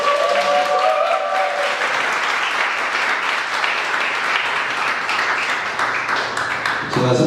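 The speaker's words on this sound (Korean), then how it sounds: "우리 어머니 환영의 박수 한번 합시다." A church congregation at a worship service claps to welcome a guest, warm sustained applause from many hands that fills the space for several seconds after a voice briefly trails off at the start.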